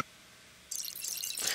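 Crystallized kalimba arpeggio sample rendered into a glittering sprinkle-dust effect: a faint low bed, then a sudden bright shimmering wash of sparkly high artifacts that swells toward the end, no voices.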